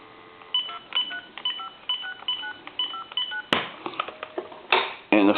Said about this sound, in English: What I'm going to do now is I'm going to dial my number.